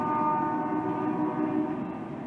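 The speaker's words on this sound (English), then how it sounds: "Train is still being quite vociferous at the moment." A train passes at a distance, its horn or whistle sounding as a steady sustained tone over a continuous low rumble of rolling wheels for the whole stretch, with no one talking.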